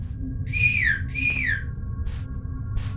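Two rising-falling whistled notes in a backrooms video game, clear and close over a low hum, followed by a couple of faint distant chirps.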